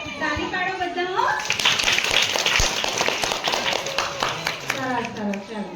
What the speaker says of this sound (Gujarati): તાળી પાડો બધા